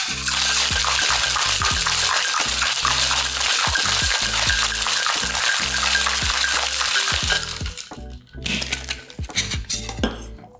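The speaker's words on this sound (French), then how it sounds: "on ajoute une pelletée de glace pilée à notre shaker et on shake vigoureusement pendant quelques secondes" Cocktail shaker packed with crushed ice shaken hard while mixing a Hurricane: a dense, rapid rattling clatter of ice against metal for about seven seconds, close and loud, then breaking into a few looser knocks as it stops.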